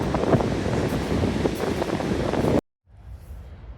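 Strong wind and sea waves roar together on a freezing Icelandic beach as a steady, loud wash of noise, which cuts off abruptly and is followed by a much quieter rush of surf and breeze.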